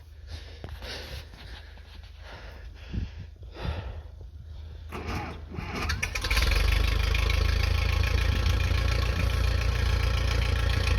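A Case VAC tractor's old gasoline engine idles after a cold start at 17 degrees, following a quieter stretch of clatter and knocks, then settles into a loud, steady, continuous run close by.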